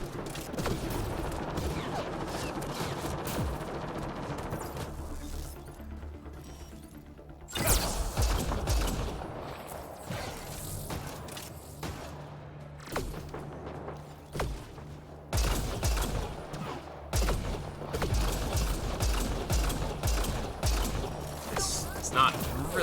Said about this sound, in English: How are they sniping us with shotguns so effectively?